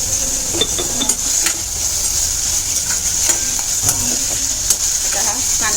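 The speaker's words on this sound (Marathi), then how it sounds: "लाल रंग येईपर्यंत आपल्याला परतून घ्यायचं मिडियम टू हाय गॅस" Masala paste with onion and tomato sautés in a pan over medium-high heat, a steady sizzle with intermittent scrapes and clinks of a spoon stirring against the pot.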